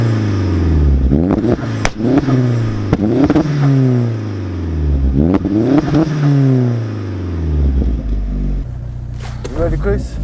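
A 404bhp Vauxhall Astra VXR pulls away, its engine note rising and falling through repeated revving gear changes, loud and close, with speech heard in the cabin.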